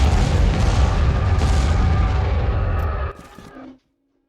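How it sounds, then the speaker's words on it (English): Heavy explosions from a bombing run in the Star Wars: Empire at War strategy game roll together as one loud, continuous rumbling barrage for about three seconds, then thin out and stop abruptly. "Commencing bombing run."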